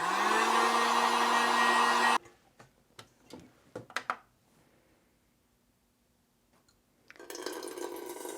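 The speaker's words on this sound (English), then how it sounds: "So it just hitting it with a heat gun" A heat gun blows on candle wax in a steady, loud, whooshing roar that stops abruptly. A few scattered clicks and light taps from handling follow in near silence, then the blower starts up again.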